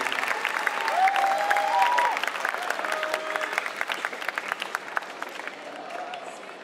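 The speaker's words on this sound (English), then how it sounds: "Let's give him an energetic clap of hands." An audience in a university campus hall breaks into sustained applause at a lecture, with dense clapping that gradually thins and fades over several seconds.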